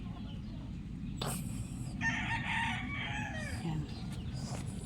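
A young rooster (stag) crows once in a strained, rising call, fairly close, over steady rain and low background noise, with a few clucks nearby.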